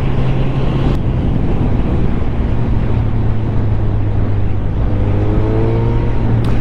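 Suzuki GSX-S 1000 2020 motorcycle riding on a 190 rear tyre with traction control set to 2, a steady loud engine drone with wind rush throughout and rising revs near the end.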